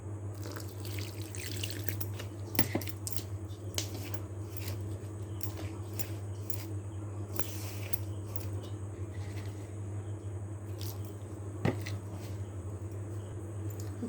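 Water is added to a peas curry mixture in a kitchen, producing a faint, soft trickle with scattered drips over a steady low hum and a couple of sharper knocks.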